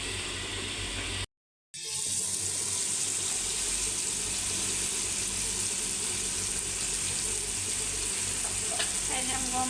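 Fish frying in a pan gives a steady, close crackling sizzle throughout, broken by a brief gap near the start, with faint clatter toward the end.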